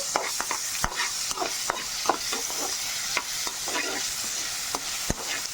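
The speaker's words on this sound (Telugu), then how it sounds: "మనం ఎంత తినగలిగితే అంతా కలిసేలాగా కలుపుకోవాలి" Mashed dal rice is mixed with avakaya mango pickle, heard as close, irregular wet squelches and soft clicks of stirring, repeating unevenly with no speech.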